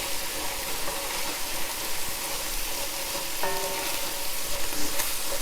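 Bolognese meat sauce ingredients browning in a pan, a continuous moderate sizzle with occasional soft stirring scrapes and one brief clink.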